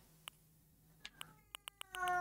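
A cat villager in the video game Animal Crossing: Happy Home Paradise gives a few short chirpy meows and clicks, then a longer melodic cry at the end, fairly faint and alone.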